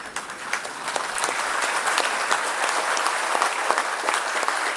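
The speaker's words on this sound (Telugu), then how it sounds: "మనందరం నిల్చొని వారిని చప్పట్ల ద్వారా అభినందించాము" An audience at a tax conference applauding, a dense and sustained burst of clapping from a roomful of people that continues for several seconds.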